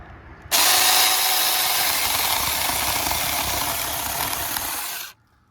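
Saker cordless 4-inch mini chainsaw making a relief cut in wood outdoors: a loud, continuous high-pitched whine and rasp lasting about five seconds, starting abruptly and cutting off sharply.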